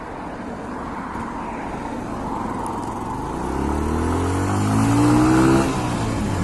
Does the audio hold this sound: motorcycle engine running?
yes